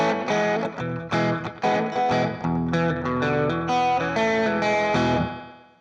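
Electric guitar playing the main riff of a 60s-style song, loud and distorted with chorus-like effects, a run of strummed chords and notes ending on a sustained ring, with no voices.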